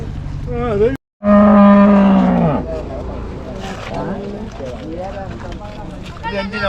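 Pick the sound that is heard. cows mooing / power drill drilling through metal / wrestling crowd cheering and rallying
cows mooing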